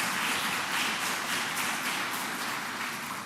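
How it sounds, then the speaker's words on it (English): An audience applauds Senator Kirsten Gillibrand at a childcare announcement, a dense sustained wash of clapping heard close and loud that tapers slightly toward the end. "Let's give her a huge round of applause."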